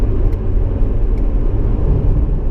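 Deep, loud continuous engine roar and rumble from a straight-piped stock 2016 Corvette with headers and a catless X pipe, steady and close during a downshift, with no talking.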